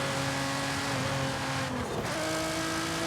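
Car engine in the Forza Horizon 5 racing game, a steady loud droning tone with a brief dip and pitch shift midway as the gear changes, then the drone continues.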